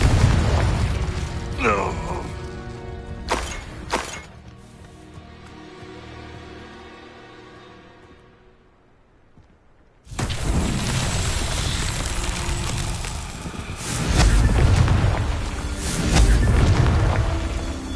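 Confringo fire spell blasts in the Hogwarts Legacy game on PS5 produce deep booming explosions, a burst of impacts early, a decaying rumble into near quiet, then a sudden loud eruption of roaring blasts continuing to the end.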